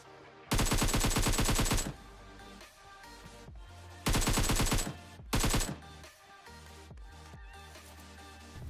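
Loud automatic rifle bursts ring out in PUBG Mobile: a long rapid burst, a pause, then two more bursts of fast, sharp shots, all over in-game background music.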